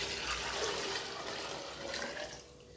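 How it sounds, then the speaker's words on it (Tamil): Water pours steadily into a cooking pot while vegetable kuska is being made, a continuous close splashing and rushing stream that runs alone for about three seconds. "தண்ணி ஊற்றிக்கலாம்."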